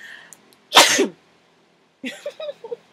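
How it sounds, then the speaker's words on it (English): A single sharp, loud sneeze bursts out near the microphone, followed after a pause by a few short breathy sounds and a brief voice. "Did I just sneeze and floss too?"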